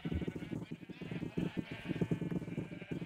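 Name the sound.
sheep bleating in Minecraft sheep farm, video game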